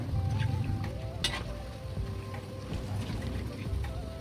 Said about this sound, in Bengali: তার মধ্যে এবার একে একে বড়াগুলা দিয়ে খুব ভালো করে ভেজে নেব